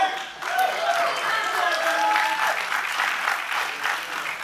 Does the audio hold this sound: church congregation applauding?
yes